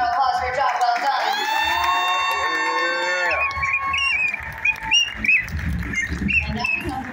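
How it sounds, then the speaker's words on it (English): At a state pageant in Nashville, held tones from music fade out and give way to an audience clapping and cheering, with scattered whoops and shouts rising over a busy crowd. "Let's give them a round of applause for a job well done."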